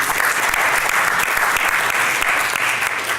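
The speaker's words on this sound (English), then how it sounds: "let's have a round of applause" Conference audience applauding in a hotel venue, steady dense clapping from a large crowd that holds an even loudness for the whole stretch with no talk over it.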